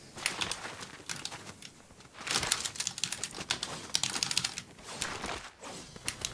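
Rapid clicking of a computer keyboard during Fortnite play, dense bursts of keystrokes with brief pauses between flurries, close and crisp against a quiet background.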